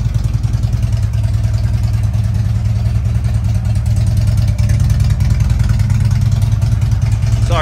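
A customized Harley motorcycle with all-LED lighting idles steadily, its engine a loud, deep, lumpy rumble that continues without pause.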